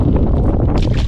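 Strong wind buffets the microphone on a windy day out bass fishing, a loud low rumbling roar that fills the whole moment.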